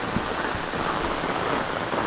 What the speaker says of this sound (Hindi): बारिश स्टार्ट हो गई है बहुत जोरों की